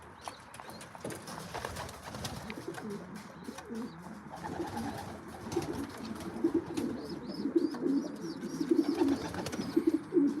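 Racing pigeons in an aviary keep up a steady, low, murmuring coo that swells toward the end, with wing flutters and small scuffles mixed in, close by and free of speech.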